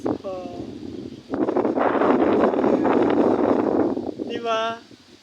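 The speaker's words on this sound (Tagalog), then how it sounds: "Dito, ang lakas ng hangin." Strong wind by the sea roars and buffets the microphone for several seconds, with brief voices before and after the gusts.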